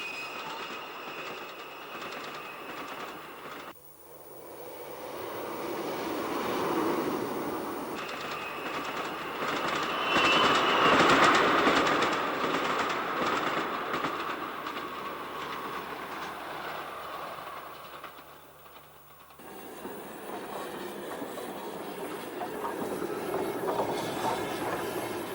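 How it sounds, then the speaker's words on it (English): A 1950s diesel multiple unit in green cat's whisker livery rattles through a Cheddar Valley station on the down main line, a loud continuous clatter of wheels that swells in the middle and then eases away, with no voices. "a new DMU in green cat's whisker livery rattles through on the down main line"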